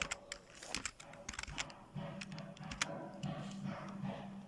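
Quiet, rapid keystrokes on a computer keyboard as a Linux command is typed, an uneven clatter of light clicks with no talk.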